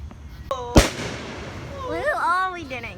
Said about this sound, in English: Because of us, we hear more fireworks.